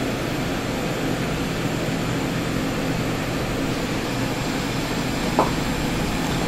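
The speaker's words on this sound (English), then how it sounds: "at the same time the machine resume loading the media" A Dolev 800V imagesetter loading media gives off a steady, unbroken mechanical hum and whir, with one faint brief click near the end.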